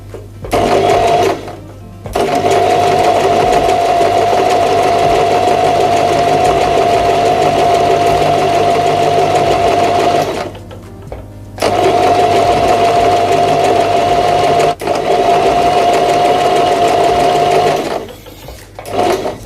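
A Janome 1000A sewing machine stitches fabric in loud, steady whirring runs of several seconds, stopping briefly between bursts before starting again.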